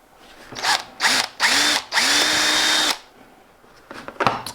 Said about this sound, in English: And we'll just drill these holes out.